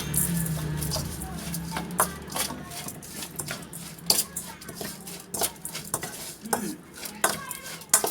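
A spoon scrapes and clinks against a bowl while stirring a lime-dressed Thai shrimp salad, koi kung, with irregular sharp metallic taps and scrapes close by and a voice briefly heard.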